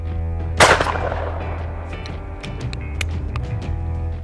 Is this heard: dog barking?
no